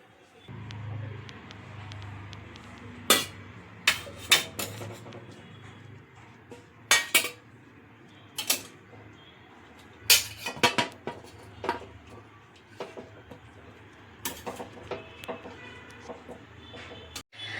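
A pressure cooker lid comes off and boiled potatoes are lifted out for vada pav, heard as scattered sharp metallic clinks and knocks of cookware against a quiet kitchen background.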